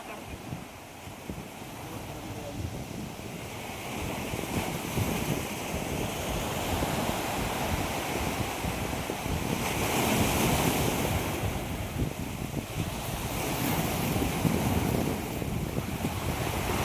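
Sea surf rolls in steadily on the shore during a fishing trip with friends, a continuous loud wash of breaking waves with heavy wind buffeting the microphone throughout.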